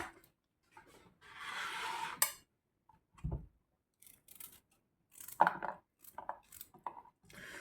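A knife cuts vegetables for a baby's soup up close, in intermittent short strokes and scraping cuts separated by quiet pauses.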